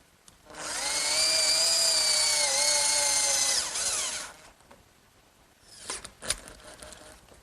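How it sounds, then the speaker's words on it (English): A power drill whines steadily for about four seconds, driving screws into a wooden pencil post bed rail, close and loud, pitch sagging slightly under load, followed by a few small clinks and handling knocks. "And I'll hold it in place with some screws in the holes that I drilled earlier."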